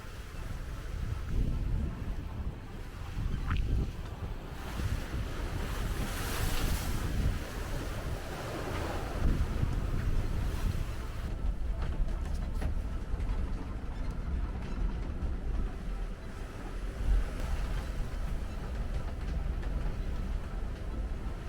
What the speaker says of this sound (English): The gusts up to 32 knots together with the high waves made it hard at night.